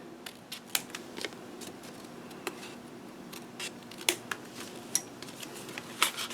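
Scissors cut pieces of a photo folio close by: faint, scattered snips and crisp paper clicks at irregular intervals over a quiet room, with no talk.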